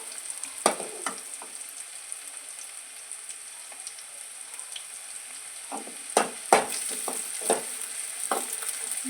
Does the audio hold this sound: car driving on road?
no